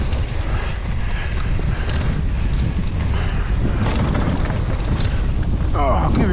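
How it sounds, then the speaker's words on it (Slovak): Strong wind roars continuously and loudly across an open hillside at Kálnica, buffeting the microphone with a dense, steady rush and no voices. "Aký vietor, ty kokos."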